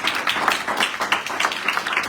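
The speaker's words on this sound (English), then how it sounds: "please give that young man another round of applause" Audience applause at a human and civil rights town hall meeting, a steady wash of many hands clapping with irregular peaks, sustained loudly throughout.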